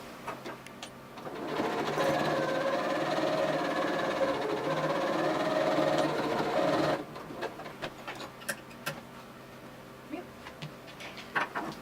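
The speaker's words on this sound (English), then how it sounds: "So what I'm going to do now is edge stitch or stitch on the very edge of this fold" A sewing machine runs steadily for about five seconds, edge stitching along the fold of a patch, then stops, leaving light clicks and handling noises close by.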